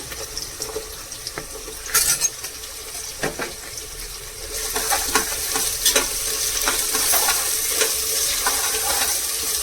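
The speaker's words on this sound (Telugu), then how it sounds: "మంచిగా వేగాలి అన్నీ." Green chillies fry in hot oil in a pan for chicken pulao with coconut milk, giving a steady sizzle that swells louder midway, broken by scraping stirs and light clinks of the spoon.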